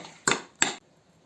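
Orache greens being mashed in a saucepan with a utensil, giving two sharp metallic knocks close by, each followed by a brief scrape. Quiet between and after the knocks.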